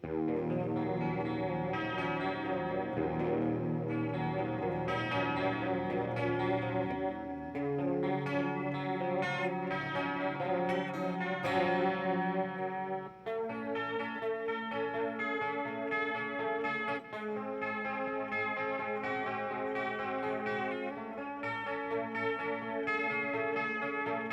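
A Jackson JS32 King V electric guitar played clean through a chorus effect, sustained shimmering chords ringing continuously with a wide, wavering modulated tone and some echo.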